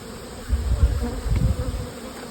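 Honeybees buzz around beehives outdoors, a close, steady drone that swells and fades as individual bees pass near.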